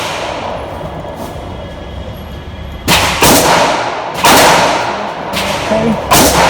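Sharp, loud gunshots at an outdoor shooting range, three or four booming reports spaced about a second or more apart, each with a ringing decay.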